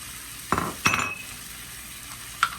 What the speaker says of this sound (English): All right, we're gonna mix all of this together.